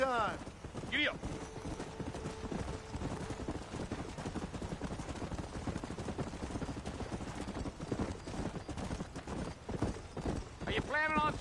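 Horse hooves gallop in a steady clip-clop rhythm through a Red Dead Redemption ride, continuous and fairly close, with game dialogue and a brief whinny over the hoofbeats.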